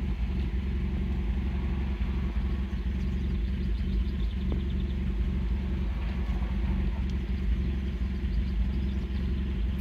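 A 2000 Nissan Sentra engine with an idle fault idles with a low, uneven rumble, running steadily without revving and with no voices present.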